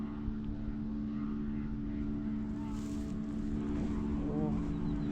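A low, steady engine drone from boats on the Mekong river at Vientiane in the evening, with a voice speaking over the continuous hum.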